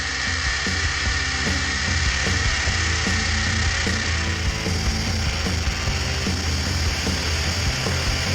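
A drill with a new bit bores anchor holes for a belt grinder post stand, making a loud, continuous rattling, ratcheting grind with a dense mechanical chatter.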